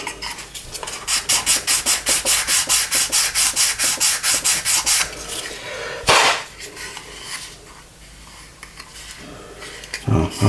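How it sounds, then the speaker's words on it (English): Rhythmic rubbing strokes of sanding along the edge of a plastic Airfix Handley Page Hampden model aircraft wing, bevelling it to look thinner; about twenty quick, even strokes, then quieter handling noises and a sharp knock. "give the illusion of it being thinner just by beveling the end of it"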